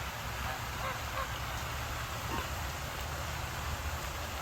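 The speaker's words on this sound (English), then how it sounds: "Sorry, but that is a big ass duck." A large duck quacks a few times outdoors, its faint calls sitting over a steady background hiss of wind or ambient noise, with no talking.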